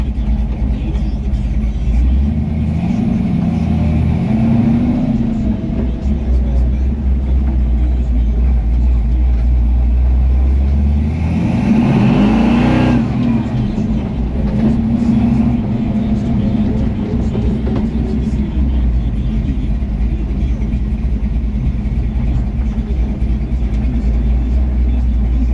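A 383 blueprint engine in a 1962 Chevrolet C10 truck runs steadily and loudly for the whole stretch, its deep rumble swelling midway as it revs up and then settling back to a steady idle, with no voices present.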